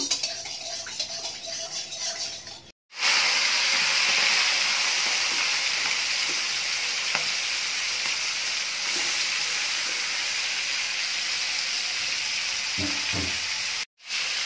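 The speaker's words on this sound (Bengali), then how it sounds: "এবার আমি চিংড়ি মাছটা একটু হালকা করে ভেজে নেব।" Prawns lightly frying in hot oil in a wok, a steady loud sizzle that runs continuously, broken by two brief gaps, with faint stirring sounds underneath.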